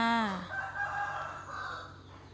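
A rooster crows once, loud and close, its call rising then trailing off, followed by a brief lower tail of sound.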